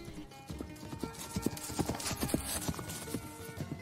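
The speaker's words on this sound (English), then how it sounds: "the knight on his horse was already galloping away" Horse hooves clip-clopping at a brisk pace as the knight's horse gallops away, a steady rhythmic run of hoofbeats with a brief whinny, heard alone over a faint background.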